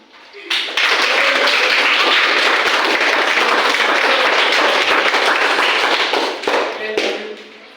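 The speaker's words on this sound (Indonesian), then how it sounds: "Saya bisa tepuk tangan ya?" Classroom audience clapping before a poetry reading at a school, a dense burst of many hands that fills about seven seconds loudly and evenly, then tapers off near the end with no talk over it.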